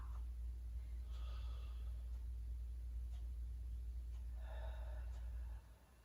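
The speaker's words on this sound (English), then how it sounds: "allowing your diaphragm to really expand as you inhale and contract as you exhale" Slow diaphragmatic breathing during a Pilates session, with soft airy inhales and exhales over a steady low hum that drops away near the end.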